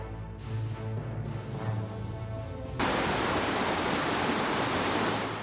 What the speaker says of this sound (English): A bridge split in half, a cargo truck got stuck in the gap, and gravel poured down like a waterfall.